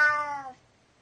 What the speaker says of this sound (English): Cats meow.